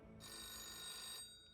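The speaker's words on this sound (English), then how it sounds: "All right, let's see what the phone call says." A phone ringing in a video game, one steady electronic ring tone that runs for about a second and then cuts off, clear and alone.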